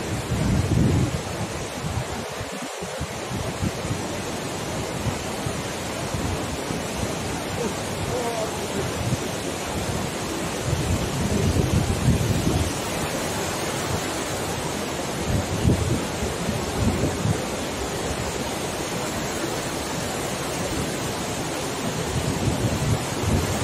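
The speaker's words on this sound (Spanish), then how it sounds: "hay un ruido aquí con el agua que flipáis" Loud rushing river water in a rocky gorge at Castril, Granada, a dense, constant roar of churning water filling the whole recording, close and unbroken, with a brief thump near the start.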